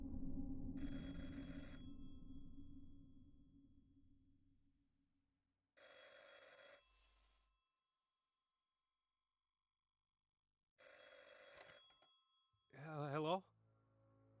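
An old-style telephone bell rings in a murder-mystery game, sounding in three separate loud bursts with silent gaps between them. A low voice speaks at the start, and a short sweeping tone closes the sequence.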